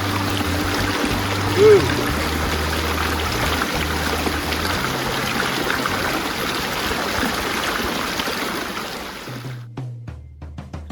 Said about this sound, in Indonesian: aliran keras seperti begini tidak terpengaruh